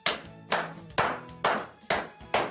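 Six sharp hand claps ring out alone at a steady, even rhythm about half a second apart, each one close and crisp with a short room decay.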